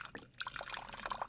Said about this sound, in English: Had to fill up my water.